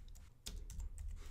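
Typing on a computer keyboard while entering text into a cipher tool, with a brief steady run of close, clicky keystrokes and a low background hum.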